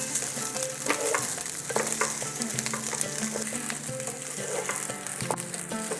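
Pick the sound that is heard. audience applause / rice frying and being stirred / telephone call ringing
rice frying and being stirred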